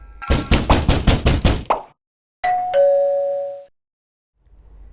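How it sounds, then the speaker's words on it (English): A rapid burst of about seven loud, evenly spaced knocks on a hotel room door, followed by a brief pause and then a two-tone electronic chime that rings out and fades into silence. "That's a freaking knocking on the door."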